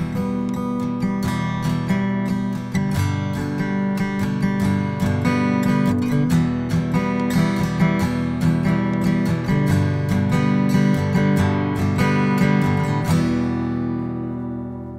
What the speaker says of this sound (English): now we're gonna add one more thing to the strumming pattern